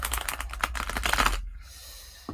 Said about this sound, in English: I'm going to shuffle these good because I'm getting a lot of repeat cards.